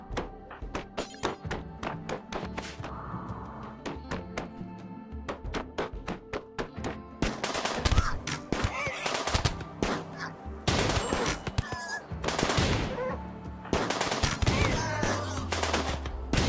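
Enemy gunfire in a video game, rapid bursts of automatic shots and sharp single blasts, dense and loud in stretches with brief lulls between volleys.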